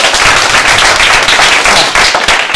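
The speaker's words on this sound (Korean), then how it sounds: "박수 부탁드릴게요." Audience applause following a group presentation, dense and loud clapping filling the whole moment without pause.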